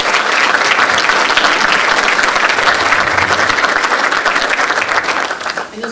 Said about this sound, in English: if we could just give him a big round of applause